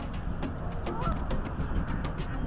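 Geese honk repeatedly in a loose, overlapping chorus over a steady low rumble, at a moderate distance, at Barcelona Harbor in Westfield, New York.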